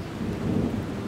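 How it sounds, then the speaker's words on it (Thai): Steady rain pours with a low rolling thunder rumble beneath it, a continuous dense wash without talking. "ไม่นานฝนก็ตก"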